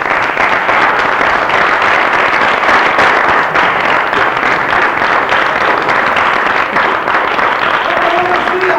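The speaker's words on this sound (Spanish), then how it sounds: "recibid con un fuerte y cariñoso aplauso" Loud, sustained audience applause fills the whole stretch without a break as a relative is welcomed onto the stage of a 1994 Spanish comedy show.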